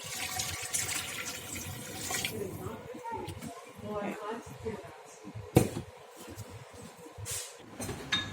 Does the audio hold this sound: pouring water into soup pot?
yes